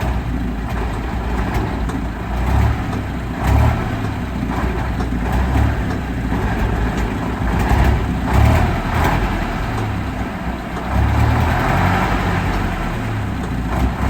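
Engine of an OT64 SKOT Polish armoured car, which has a clutch fault, runs steadily at close range, a loud low rumble with a few brief swells in level and no talk.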